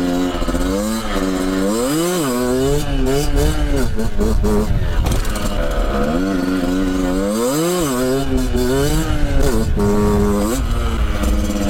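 A motorbike engine fitted with a Turbokit exhaust pipe revs loudly and close on test, its harmonic pitch climbing and falling in repeated rev cycles throughout.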